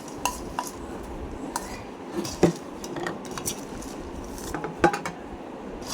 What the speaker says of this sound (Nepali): यहाँ थालमै खनेर मिक्स गर्छु